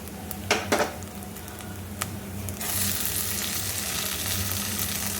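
Steady frying sizzle of coconut and jackfruit in a pan, with a few clinks of a utensil against the pan near the start, then a fuller continuous sizzle.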